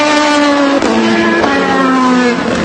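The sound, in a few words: Porsche race cars going around the circuit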